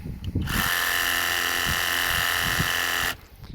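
A cordless brushless mini pressure washer sprays at its lowest speed, a loud steady whining motor hiss that starts abruptly, holds for about two and a half seconds and cuts off.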